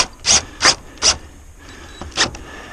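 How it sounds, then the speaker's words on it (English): Screws being driven down tight into a metal roof panel with a power driver, four to five short sharp whirring bursts spaced under a second apart, close and loud with no talking. "You'll get a feeling for how much to tighten these down, and you can watch your washer."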